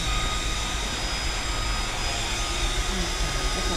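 An airplane passes overhead near the sea, its broad, steady jet roar filling the air. The sound holds at a constant loudness throughout.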